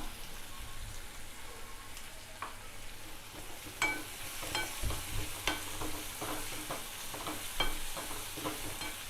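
Fenugreek (methi) leaves with salt frying in a pan, a soft steady sizzle under repeated scraping stirs that quicken in the second half, close-up and without speech.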